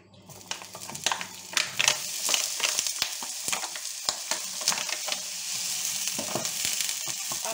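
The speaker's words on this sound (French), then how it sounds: "Je vais mettre d'abord mes lardons." Bacon lardons hitting a hot pan and frying, a loud, continuous close sizzle with crackles and spatters and occasional stirring knocks, no talking.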